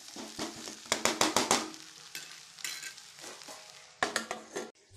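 Yippee instant noodles being stirred in a pan give quiet, rapid bursts of scraping and clattering strokes against the metal, with short pauses between and no talk.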